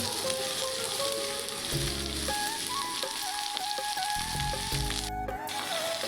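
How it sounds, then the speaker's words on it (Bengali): Mixed vegetables sizzling and frying in a pan as they are stirred, a steady crackling hiss broken by scraping and clinking of the spatula against the pan. "একটু নাড়াচাড়া করে নিলাম সবগুলো সবজি"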